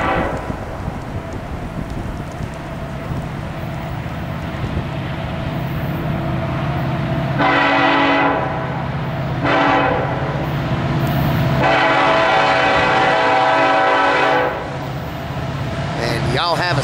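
A Norfolk Southern intermodal freight train led by an SD70ACe rumbles past steadily while its horn sounds three long blasts, loud and close, over the grinding roll of wheels and wind.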